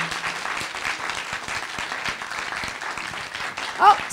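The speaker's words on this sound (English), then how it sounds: "Round, loud, wild applause for our thank you, ladies." Audience giving speakers loud applause, a dense steady wash of clapping throughout, with a brief voice and whoop rising near the end.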